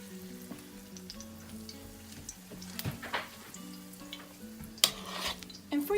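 Dandelion fritter batter frying in hot oil, a steady crackling sizzle with sharp pops and spoon clinks against the pan, near and clear, while a low musical tone hums underneath.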